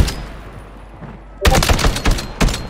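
Rapid bursts of gunfire from a Call of Duty Warzone Rebirth match replay, a quiet stretch giving way to loud clustered shots near the end.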